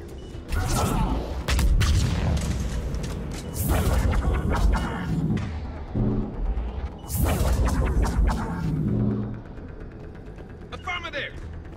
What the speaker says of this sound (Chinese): 盖尔斯已经开枪。